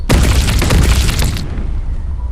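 A loud, sharp blast from a video game, a single gunshot-like boom with a burst of broadband noise that cuts off after about a second and a half, leaving a quiet tail.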